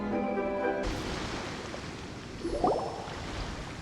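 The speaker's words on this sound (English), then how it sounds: "The sound of the waves in this familiar port." Ocean waves wash steadily against a port in Genshin Impact, a soft continuous surf hiss that follows a held musical chord, with a slightly louder swell near the end.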